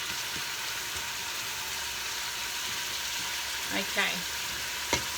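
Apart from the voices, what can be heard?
onions softening while frying in a pan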